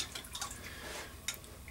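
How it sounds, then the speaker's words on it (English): Liquid soft plastic fishing bait dripping off a spoon, a few faint wet drips and splats close by over a quiet background. "Drips off the spoon."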